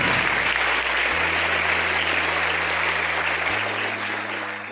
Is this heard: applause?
yes